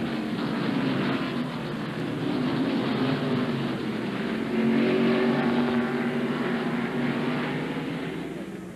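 NASCAR stock cars race up the hill at Sears Point in 1998, a loud, steady roar of several engines sustained throughout with a slight swell midway.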